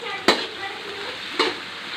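Salted onions sauté in a frying pan for Kerala chicken dry roast, a steady soft sizzle broken by two sharp stirring scrapes about a second apart.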